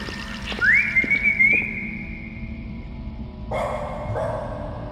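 In a video game, Lost in Vivo, a long rising whistle rings out in a sewer, then a couple of distant dog barks echo faintly afterward, set against quiet ambient noise.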